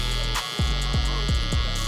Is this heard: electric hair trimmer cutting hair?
yes